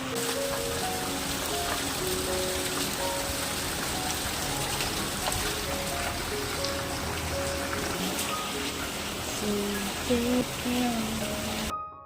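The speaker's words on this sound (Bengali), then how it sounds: "হঠাৎ কি সুন্দর বৃষ্টি নেমে গেল, জাস্ট অসাম লাগছে ওয়েদারটা" Sudden steady rain pours outdoors with a dense, continuous hiss of drops on surfaces that holds throughout, loud and close, with faint background sounds and no clear talk.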